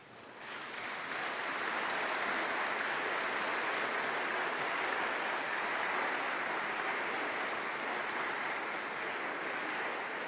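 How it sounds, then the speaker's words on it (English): Graduates and guests at a university winter congregation ceremony break into loud, sustained applause, a thick and steady wash of many hands clapping that holds at full strength for about ten seconds. "please stand up and give a huge round of applause to your family and to your teachers"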